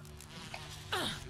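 Bees buzzing in the video game Resident Evil HD Remaster, a thin droning hum that swells into a louder, wavering insect whine near the end.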